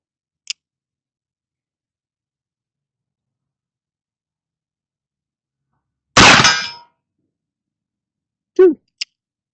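A lead ball fired from an 1862 Dance Brothers cap and ball revolver strikes a steel target with a single loud metallic clang. Brief faint ticks come before it and a short ringing ping follows, with long stretches of silence between.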